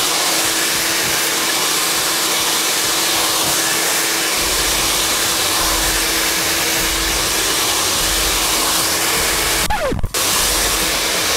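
A hair dryer blow-drying wavy hair gives a steady, loud, close rushing whoosh that carries through without a break, with one brief clunk near the end.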